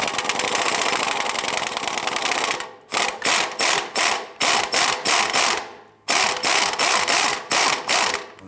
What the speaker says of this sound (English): So we're going to switch over to the front bolt here and see if we can loosen this one.